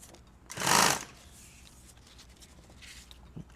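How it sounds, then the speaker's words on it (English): A sewing machine stitches edge tape onto Cordura nylon in one short, loud whirring burst of about half a second, followed by quiet shop ambience and a faint click. "Needle strike down. I'm through the edge tape and the Cordura."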